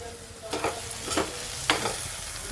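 Chole masala sautéed in a pan with kitchen king masala, garam masala, turmeric, salt and coriander, three scraping stirs over a steady close sizzle, no voices.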